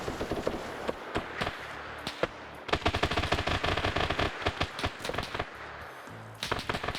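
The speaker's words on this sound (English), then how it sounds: "I think Lolo's gonna hone in on that gunfire." Rapid video-game gunfire in the Raate Road Raid op, with dense bursts of automatic fire and sharp cracks, steady volleys through most of the stretch and a heavy cluster in the middle, loud and close, with no talk.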